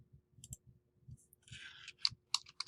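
Fingers type on a computer keyboard in short, quiet bursts of crisp clicks with small pauses between them, close by in a hushed room.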